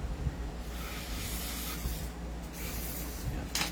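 Silicone oil sprayed onto a JWC Pit Viper airsoft gun, a steady close-up hissing spray running for a few seconds with a brief sharper burst near the end, alone without talk.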